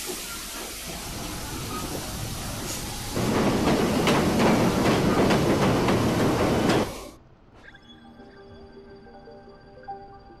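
A train with a loud, steady rumbling hiss that swells louder midway, then cuts off abruptly to a quieter interior with faint ringing tones.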